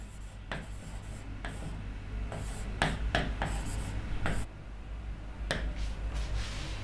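A teacher writes respiratory-system notes on a board, chalk tapping and scraping in short, uneven strokes with sharp clicks scattered over a steady low background hum, close and without talk.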